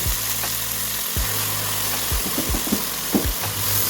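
Mustard greens (saag) hit hot oil with garlic and ginger, giving a continuous loud sizzle and crackle close by, broken by thumps and scraping of stirring in the pan.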